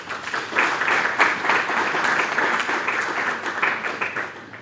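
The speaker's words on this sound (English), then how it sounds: "I would request a round of applause to Build It." A round of applause from the audience at an Eswatini Football Association Build It Championship event, steady dense clapping throughout at moderate volume with no speech over it.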